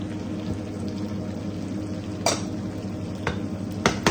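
A spoon stirs butter garlic crab sauce with mayonnaise, Maggi seasoning, black pepper and salt in a pan, with a soft continuous sizzle and a few sharp scraping clicks against the pan near the end.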